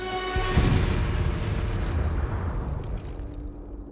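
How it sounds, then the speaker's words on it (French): A bomb explodes with a deep, heavy boom that swells quickly and rolls off into a long rumbling decay over several seconds, loud and alone with no voices. "quand une bombe explose"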